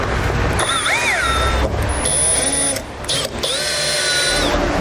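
A power driver whirs in short bursts, running in the factory torque-bit screws that re-secure a pickup's fuel door during a truck bed auxiliary tank install, with brief rising and falling motor pitches between pauses.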